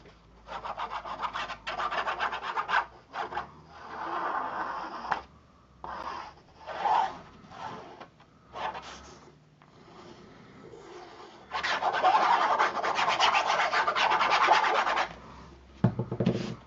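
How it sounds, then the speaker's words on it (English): Paper is burnished over freshly glued craft pieces, heard as close, dry rubbing and rasping strokes in bursts of varying length, with pauses between and a longer sustained scrub near the end. "we're just going to burnish over that, make sure we get that glue nice and spread out so we don't have any glue lines"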